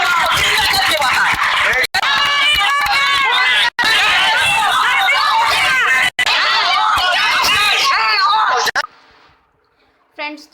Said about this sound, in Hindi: नर्सिंग स्टूडेंट्स लोग जस्टिस के लिए, वी वांट जस्टिस का नारा लगा रहे हैं